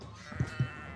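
Two short sheep bleats in the strategy game Kingdom Rush 3, quick and close together, soft and alone.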